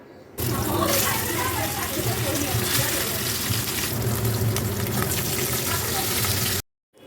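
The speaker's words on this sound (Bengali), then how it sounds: "এবার আমি মাছগুলো এক এক করে ভেজে নেব" Katla fish pieces frying in hot oil in a wok, a loud, steady sizzle and spatter that continues without a break before cutting off abruptly.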